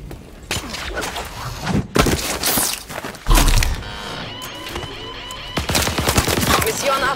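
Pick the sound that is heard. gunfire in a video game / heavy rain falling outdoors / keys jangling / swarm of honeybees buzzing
gunfire in a video game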